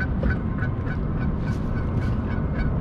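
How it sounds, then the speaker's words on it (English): An angry goose honks and gobbles repeatedly near still water as a small vessel passes, harsh calls over a steady low rumble, no talking. "You can hear an angry goose."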